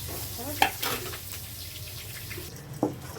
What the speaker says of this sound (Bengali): বেগুনটা আগে ভেজে নিলে পরে মাছের সঙ্গে বেগুনটা দিলে ভালো লাগে